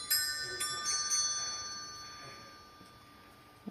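Bells on an angel decoration atop a Christmas train table play a tinkling melody, bright repeated chimes that fade over a few seconds, indoors with faint background.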